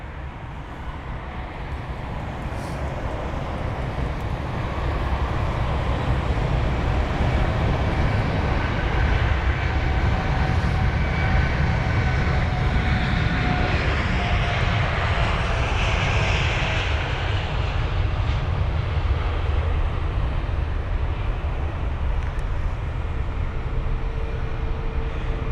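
An Air India Boeing 787-8 Dreamliner takes off at Heathrow, its engine roar swelling after a few seconds into a loud, sustained rumble that holds steady, with faint whistling tones drifting through it.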